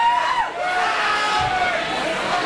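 A concert crowd at the Ace of Spades cheers and roars in a continuous wash of sound, loud and sustained throughout, with voices mixed into the din.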